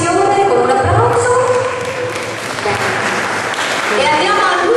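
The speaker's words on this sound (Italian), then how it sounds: "Accompagniamo le signore con un applauso." Audience applause at an Italian awards ceremony for applied arts and crafts, a steady wash of clapping that carries on throughout, with voices talking over it.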